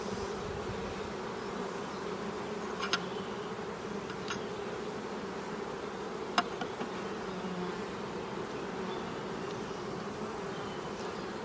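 Honeybees hum steadily in an open hive during a spring inspection, a dense, continuous buzz close by with occasional louder passes of single bees and no talk over it.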